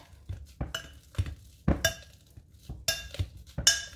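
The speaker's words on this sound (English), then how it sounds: "I'm going to use a potato masher. And I'm going to mash these up." A potato masher presses ripe bananas in a bowl for banana bread breakfast cookies, making about eight separate soft squishes and clanks against the bowl in an uneven rhythm, close and fairly loud, with no talk.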